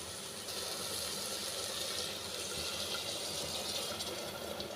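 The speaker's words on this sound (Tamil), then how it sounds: "நான் தண்ணியை லைட்டாக சூடு பண்ணி சேர்த்துக்கிறேன்" Warm water pouring steadily into basmati rice in a cooking pot, a continuous splashing hiss that stays close and even throughout with no voices.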